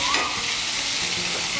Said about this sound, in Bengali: টমেটোটাকে মিশিয়ে নিয়ে সজনে ডাঁটার আলুটাকে আর একটু ভেজে নেব।